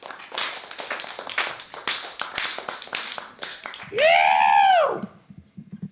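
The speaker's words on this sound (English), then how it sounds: "Give them a round of applause." Clapping from a small crowd, steady and fairly close, fading out as a voice cheers loudly over the end.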